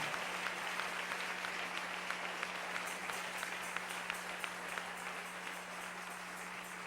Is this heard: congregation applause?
yes